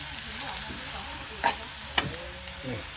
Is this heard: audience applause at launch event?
no